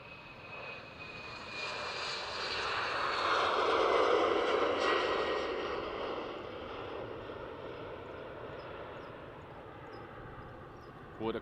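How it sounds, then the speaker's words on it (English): A KLM Embraer 190 jet takes off at Schiphol Airport, its engine roar building from a distance to a broad rumbling peak, then slowly fading as the aircraft climbs away. "But first enjoy this KLM Embraer 190"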